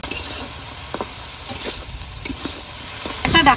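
Potatoes and pointed gourd fry in a pan with a constant, loud close sizzle, broken by light scraping ticks, and a busier crackle bursting up at the end.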